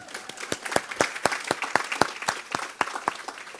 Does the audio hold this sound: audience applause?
yes